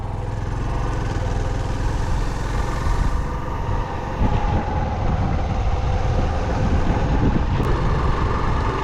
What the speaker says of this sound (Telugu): గాలి కూడా విపరీతమైన గాలి వస్తుంది